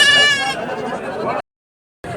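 A goat at a crowded livestock market in Garhwa, Jharkhand gives a loud, close, wavering bleat, then a brief silence before another bleat begins.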